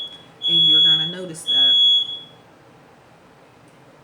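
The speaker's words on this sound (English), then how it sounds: "That was my smoke alarm" A household smoke alarm sounds two shrill, piercing beeps, close and loud, while a person keeps talking over them. Quiet room tone follows.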